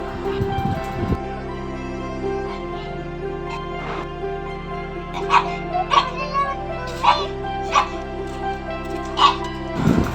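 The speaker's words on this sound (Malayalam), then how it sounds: "പട്ടി കിടന്ന് കുറയ്ക്കണേന്" A dog barks and yips in a series of short, irregular bursts from mid-distance over a steady droning background tone.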